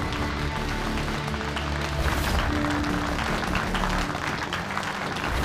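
Audience applause welcoming actor Kunal Kapoor onto the stage at a television show event, a steady wash of clapping with a faint crowd murmur, filling the moment with no voices on top.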